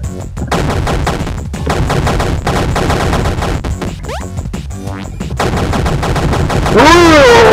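Rapid pistol gunfire in Super Crate Box, loud bursts of shots in quick succession amid busy game effects and chiptune sounds, ending in a rising warbling tone.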